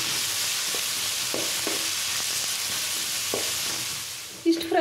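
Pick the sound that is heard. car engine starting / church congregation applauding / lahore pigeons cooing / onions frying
onions frying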